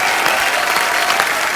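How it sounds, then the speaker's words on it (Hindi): A studio audience at a comedy and poetry show bursts into dense, loud applause, an even wall of clapping that runs throughout without pause. "जोरदार तालियां"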